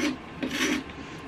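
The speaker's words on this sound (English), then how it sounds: "I think I need to break out the sandpaper." Sandpaper rasps in short rubbing strokes over a chippy painted surface being distressed for a shabby chic look, with three or four close, dry scrapes and no talk.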